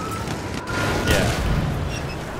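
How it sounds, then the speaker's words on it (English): Enemy machine gun fire rumbles through a video game battle, a loud continuous wash of distant shots and booms with no clear gaps. "There's an enemy machine gun!"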